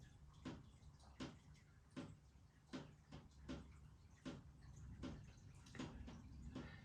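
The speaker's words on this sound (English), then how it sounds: "It's like a drum, innit, that drip." Rain water dripping from a lean-to roof onto a house, landing in slow, fairly regular drum-like taps about every half second to second over a soft background hiss, with no talking.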